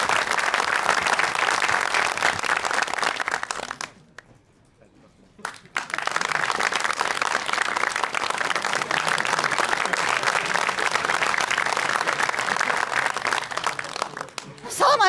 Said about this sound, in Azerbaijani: Alqışlarınızla davam edirik.